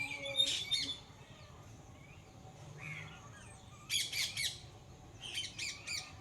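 Rose-ringed parakeets give harsh, raspy squawks in short bursts, one near the start and two clustered runs later, moderately close against a quiet background.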